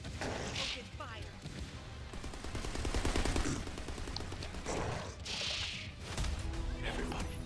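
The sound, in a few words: gunfire in the video game The First Descendant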